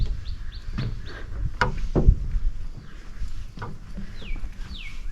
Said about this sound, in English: So we can hear lots of birds.